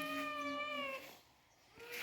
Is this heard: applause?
no